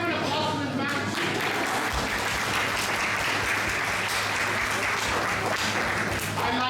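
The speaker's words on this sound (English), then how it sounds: "Can we give an applause to this man?" Steady audience applause for a man during a grammar instruction talk, continuous dense clapping lasting several seconds at an even level, with some voices mixed in.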